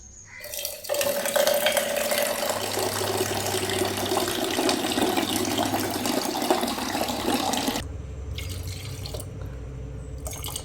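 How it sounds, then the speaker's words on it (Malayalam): Water is poured into a cooking pot of boiled lentils and vegetables, a steady close gushing splash lasting about seven seconds before easing into quieter trickles and drips. "കുറച്ചും കൂടെ വെള്ളം ഒഴിച്ച്, വെള്ളം കുറവായിരുന്നു കേട്ടോ."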